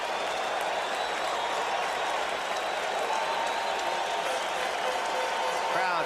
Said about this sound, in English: Crowd making the kind of noise it normally makes for Dwight Gooden.